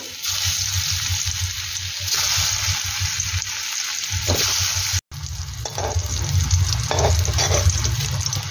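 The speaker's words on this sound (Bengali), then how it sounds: "এবার এই তেলের মধ্যেই এই চৌকো করে রাখা টুকরোগুলো দিয়ে ভেজে নেব।" Square pieces of lentil cake (dhoka) fry in hot oil, making a loud, bubbling sizzle with scraping stir sounds that surges and eases, broken by a brief gap midway.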